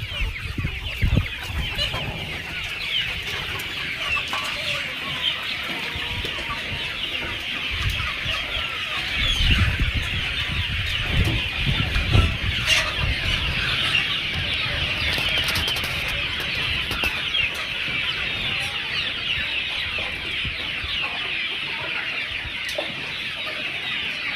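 A large farm flock of Javari chickens in Vijayapura clucks and calls continuously, a dense, loud chorus with occasional wing flaps and no talk.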